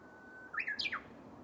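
A wild bird sings near a morning yoga session: two quick, bright, falling chirps in rapid succession, faint and alone against a quiet room hush.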